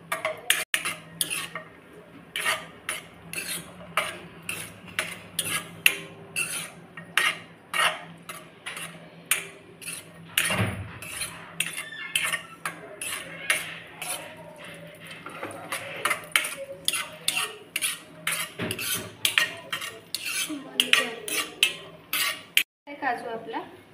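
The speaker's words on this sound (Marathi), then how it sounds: "काजू ना भाजताना मंद आचेवरती भाजायचं आणि जास्त करपू द्यायचं नाही. सतत हलवत हलवत भाजायचं." Cashews roasting on a low flame in a pan while a utensil stirs them without pause, giving a steady run of close metallic scrapes and clinks with no talking.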